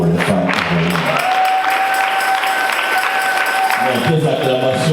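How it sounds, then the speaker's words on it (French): A church congregation applauds and cheers for heroic women during a service, sustained crowd clapping with shouts, a held musical tone and voices throughout. "Est-ce qu'on va acclamer pour les femmes héroïnes?"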